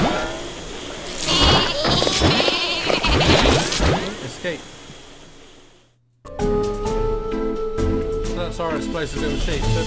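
Sheep from the video game Meet the Flockers bleat repeatedly and loudly in a busy cluster, then a short silence gives way to upbeat game music with a voice talking.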